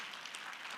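Conference audience applauding, a brief dense patter of many hands clapping, even and moderately soft with no voices over it.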